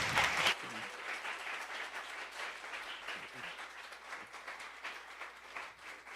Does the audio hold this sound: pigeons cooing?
no